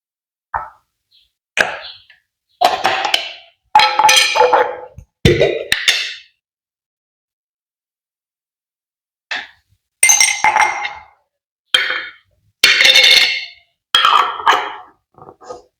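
Hair oil ingredients are stirred inside a glass container, producing a series of sharp, close glass clinks in irregular bursts separated by pauses of silence.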